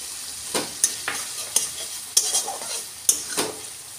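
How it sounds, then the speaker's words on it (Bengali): Ginger and a paste of coriander, cumin, turmeric and chili soaked in water fry in a pan, with several sharp stirring scrapes and clinks over a hissing sizzle, close and fairly loud, no voices. "এবার আদাটা একটু ভেজে নিয়ে দিয়ে দেবো ধনে জিরে হলুদ লঙ্কা জলে গুলে রাখা পেস্ট"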